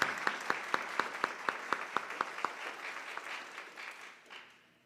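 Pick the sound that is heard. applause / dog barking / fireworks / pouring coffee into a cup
applause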